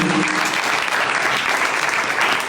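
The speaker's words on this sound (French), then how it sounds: "vous pouvez les applaudir bien fort" Dense, steady audience applause fills a university hall in Nîmes after a debate among young representatives of eight political parties, loud and unbroken throughout.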